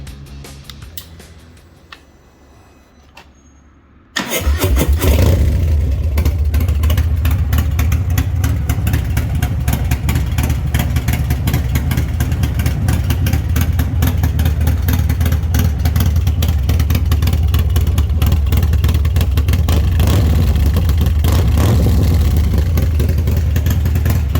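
A 117ci V-twin engine with 30/30 cam and TBR exhaust cranks and catches after a few quiet seconds on a cold start, then roars loudly and steadily with revving, a deep, lumpy rumble close by.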